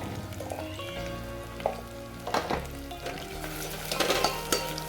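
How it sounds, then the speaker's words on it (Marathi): Black spice paste fries in hot oil in a pan with a loud, continuous sizzle, broken by several sharp stirring scrapes and clicks toward the end; no one talks. "तेलात आता एक मिनटासाठी परतून येते छान वाटण मस्त परतले"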